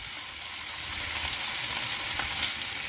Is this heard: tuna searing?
yes